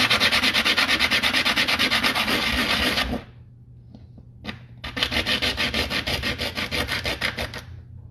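Steady, rapid back-and-forth sanding scratches a surface to rough it up, loud and close, stopping for about two seconds with a couple of light taps before resuming at the same brisk rhythm; no talking.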